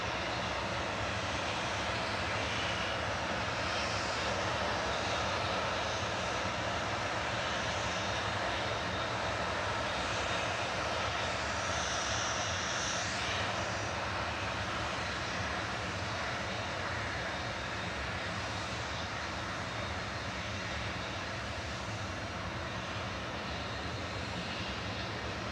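ATR turboprop engines and propellers at Manchester Airport, a steady loud droning roar holding for the whole stretch with no talk over it.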